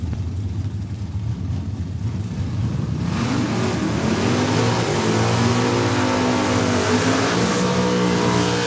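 Drag race cars launch and accelerate down the strip at a raceway, a loud roaring engine note rising in pitch and swelling as it nears, filling the scene without talk.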